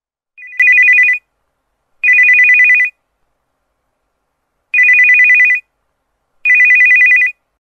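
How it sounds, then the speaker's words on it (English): A mobile phone ringtone sounds in four bright, even bursts separated by silence, loud and clear once it is out from under a pillow. "the ring of the phone sounded low and muffled when it was lying beneath this pillow and now when I have taken it out there, it sounds so loud"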